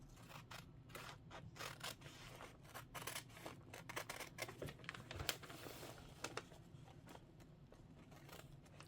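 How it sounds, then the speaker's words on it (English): Scissors snipping through fusible adhesive for quilting, a quick string of crisp close cuts that falls into a steady rhythm and stays fairly faint, with no talking. "I'm just going to scissor cut this."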